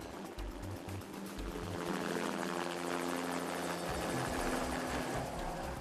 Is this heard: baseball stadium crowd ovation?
no